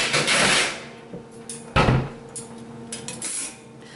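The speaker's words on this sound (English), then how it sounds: "And now I'll put it on a metal rack." A freshly baked rye bread loaf set onto a metal cooling rack, a few sharp metallic clanks and knocks with rattling between them, close and fairly loud.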